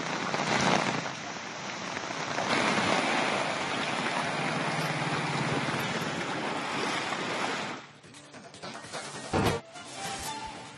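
Heavy monsoon rain pours down in Karwar, Uttara Kannada, with strong wind. A dense, loud roar of rain and gusts fills most of the stretch, then eases, broken by a sharp thump near the end.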